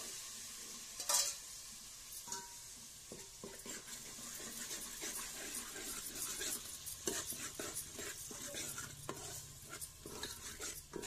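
Onion is added to hot oil for a village-style chicken curry and stirred, with a soft sizzle, scraping and occasional clinks from the pan, all fairly quiet and close.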